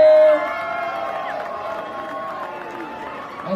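A large spring break crowd at a booty shake contest at Lani Kai fills the air with a steady, loud roar of cheering, shouting and whoops, continuous and dense throughout with no single voice standing out.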